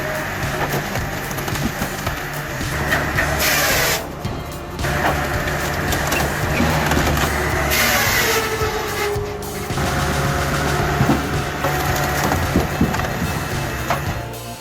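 A VSP 60.60 wood processor with a hydraulic system cutting and splitting logs up to 600 mm, loud continuous mechanical roar with crackling, splintering wood bursts throughout.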